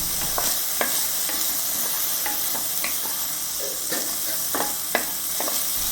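Tomato, potato and carrot for sabudana khichdi sauté in a pan with a constant close sizzle, punctuated by several sharp spatula clicks and scrapes.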